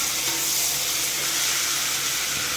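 Chopped large onion frying in hot groundnut oil in a pan, a steady dense sizzle and hiss running close and continuous throughout, with no talk.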